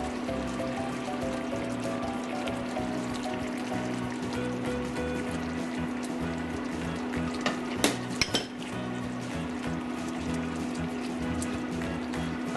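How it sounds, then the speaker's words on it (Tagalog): Pineapple chicken in coconut milk being stirred in a pot, a steady simmering hiss and bubbling with a few sharp clinks of a utensil against the pot partway through. "Haluin lang natin ito"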